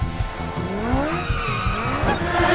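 A cartoon race car speeds along with loud, screeching tire skids and a rising engine whine. The sound is close and continuous, with pulsing motor rumble underneath.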